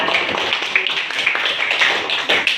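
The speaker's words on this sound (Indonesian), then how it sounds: "Kita berikan aplaus pada teman kita" Applause for a colleague in a classroom or workshop setting: steady, dense clapping from a group of people, sustained and fairly loud throughout, with no talk over it.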